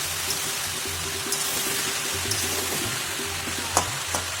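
Shrimp and palong greens frying in a pan while being stirred, a steady soft sizzle with a few light scrapes and one sharper knock from the utensil, heard close and alone.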